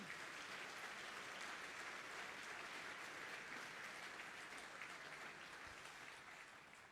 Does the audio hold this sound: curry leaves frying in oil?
no